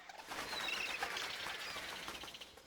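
Birdsong and chirps from the game Star Trek: The Next Generation "A Final Unity" fill a steady outdoor ambience, faint high calls layered over a wash of noise, with no talking.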